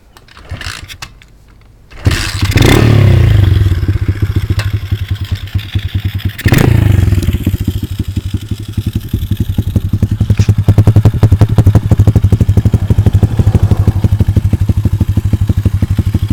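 An SSR pit bike with a factory Vex and 50 handlebars fires up with a sharp bang, then idles in a fast, loud, steady putter. Its revs briefly rise and fall in the middle, and it keeps chugging close by with no talk.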